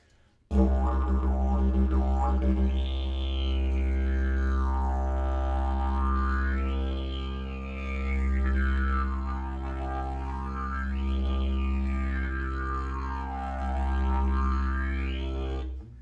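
A steady didgeridoo drone played with a slow tongue technique, a wavering overtone sweeping up and down in long, even cycles, played alone and loud.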